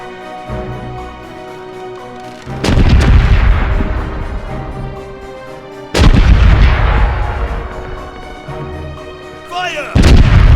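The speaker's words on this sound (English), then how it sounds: "Cannons are ready to fire!" Ship cannons in the pirate sea-battle game Corsairs Legacy fire two loud, booming volleys several seconds apart over a musical score, and a third blast begins at the very end.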